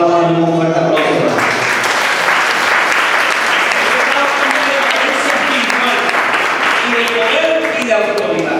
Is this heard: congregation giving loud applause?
yes